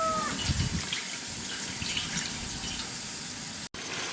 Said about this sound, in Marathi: आता ताट झाकून त्यामध्ये पाणी ओतूयात।